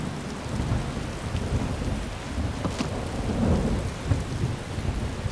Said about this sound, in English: This isn't very good if you don't have a roof to keep the cold rain off you.